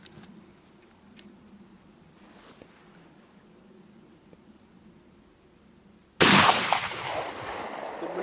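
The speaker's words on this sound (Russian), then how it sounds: "Второй выстрел." A single loud shotgun blast from a 1959 TOZ-63 16-gauge firing a slug cracks out suddenly near the end, followed by a sustained rumbling decay after a quiet, low-level stretch.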